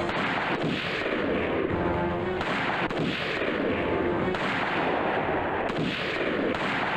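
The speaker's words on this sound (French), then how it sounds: "il y a le même bruit en boucle tout le temps, deux bruits de feu" Loud gunshots from an Indian film repeating in a regular looping pattern, each blast followed by a rumbling tail, roughly one every second or so, with no pauses.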